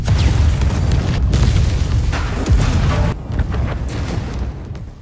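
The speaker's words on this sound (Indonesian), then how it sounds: "Ketika meledakkan titik-titik yang dicurigai" Deep rumbling blasts of explosives set off at suspected points in an abandoned facility, a heavy continuous roar with a sharp break and a second booming wave, loud and close.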